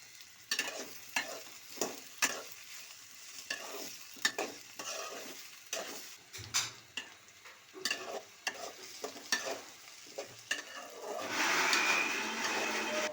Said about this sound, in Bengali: আমি বেশ কিছুটা পেঁয়াজ বেরেস্তা করে রেখে দিলাম